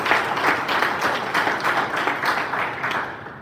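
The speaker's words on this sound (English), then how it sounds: "I said, can you clap for yourselves?" An audience at a wellness session claps for themselves, a sustained crowd of hands beating steadily and fairly loud, fading slightly at the end with no voices over it.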